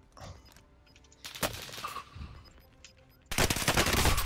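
An automatic gun in a video game fires in rapid bursts, a short volley early on and a loud, sustained stream of shots at the end, with quieter game sounds between them.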